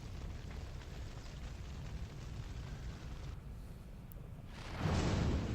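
A roaring burst of fire in the fantasy game Dragon Age: Origins, a sustained rushing noise that drops away briefly and then flares up louder at the end.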